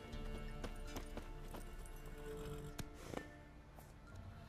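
Roach, a horse in The Witcher 3, trotting with steady clip-clop hoofbeats over an ambient game score, fairly quiet, with a faint snort or two.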